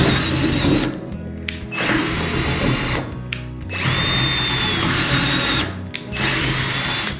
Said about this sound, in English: I've set my drill on low speed for my spade bit